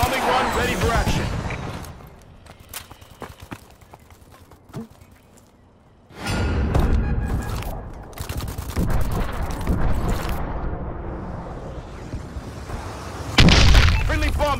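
Bombing-run killstreak explosions rumble and boom in a Call of Duty match, a dense burst of blasts and gunfire at first, a quieter lull, then a heavy wave of detonations returning loud and continuous.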